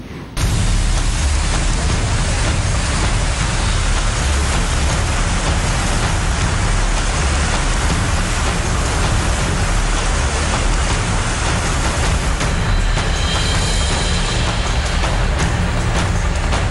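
Heavy monsoon rain in India pours down as a loud, dense, steady roar of water hitting surfaces, unbroken from start to finish.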